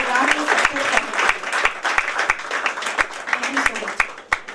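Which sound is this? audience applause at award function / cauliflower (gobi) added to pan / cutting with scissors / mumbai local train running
audience applause at award function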